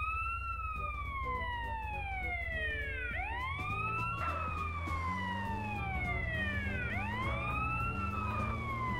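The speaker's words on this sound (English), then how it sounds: "Every time I hear the siren, I keep thinking we're getting the cops on our ass" An ambulance siren in the video game GTA: San Andreas wails up and down in long repeating cycles, loud and steady over a low engine rumble.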